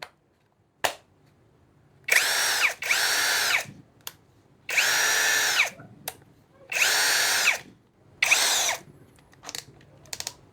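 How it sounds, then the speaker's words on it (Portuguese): A Ryoku cordless drill whirs loudly in five or six separate bursts, each lasting about one to two seconds, with short pauses and small clicks between them and no talking. "E a furadeira..."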